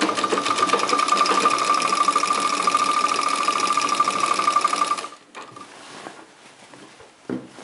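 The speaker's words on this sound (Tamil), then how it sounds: "இந்த மாதிரி கரெக்டாக 1/2 இன்ச் அளவுக்கு நீங்கள் ஈவனாக வச்சு தைச்சுக்கோங்க" A sewing machine stitches a half-inch seam in fabric during a beginner tailoring lesson, running loudly with a rapid, even mechanical whir for about five seconds before stopping, followed by faint handling noises.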